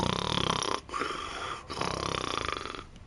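A man imitates snoring with his voice, making repeated rasping, snorting inhales split by short pauses, close to the microphone.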